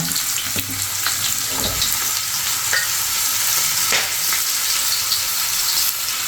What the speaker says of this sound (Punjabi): ਹੁਣ ਥੋੜਾ ਜਿਹਾ ਪਿਆਜ਼ ਤੇ ਹਰੇ ਪਿਆਜ਼ ਦੇ ਨਾਲ ਹੀ ਇਹਨੂੰ ਥੋੜਕਾ ਆਪਾਂ ਲਗਾ ਲੈਣਾ